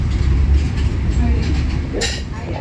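Siemens suburban train running alongside a moving Overland passenger train in Melbourne, heard as a steady loud low rumble of wheels and carriage noise with a brief brighter metallic clink near the end.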